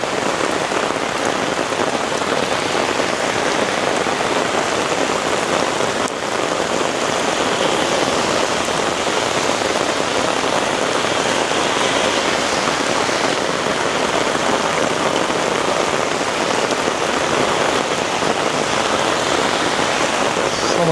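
A torrential downpour drums on city streets and a parking lot in downtown Toronto, loud and unbroken, with running runoff water blending into the constant hiss of the rain.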